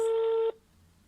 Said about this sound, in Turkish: Çalıyor. Telefonumuz.